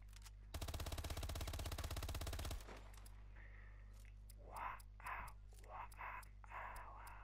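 A two-second burst of rapid automatic fire from a gun in Call of Duty: Advanced Warfare, loud and fast-cycling, followed by quiet with low hum and some soft breaths and murmurs.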